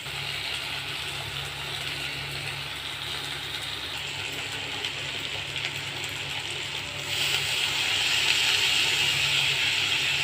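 Curry leaves, fenugreek seeds and dried chillies sizzle in hot oil, a constant hissing crackle that steadies throughout and grows louder and brighter toward the end, with no voices.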